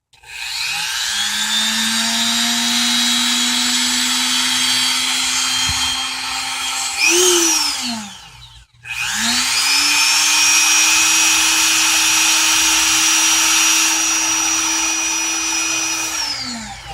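Brushless RC car motors rated at 7,500 RPM run during break-in with a loud, steady, high-pitched electric whine. They spin down briefly partway through, then rev back up and hold speed again.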